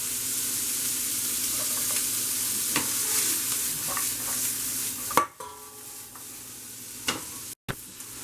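Red onions and bacon sauté in a pan, a steady close sizzle with intermittent stirring scrapes and clinks, briefly dropping away for a moment near the end.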